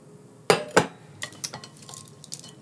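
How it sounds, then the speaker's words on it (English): A bowl and a metal sieve are handled in a home kitchen during bush-food cooking: two sharp clinks close together, then a string of lighter knocks and rattles, with no talking. "I'm just going to grab a bowl and my sieve"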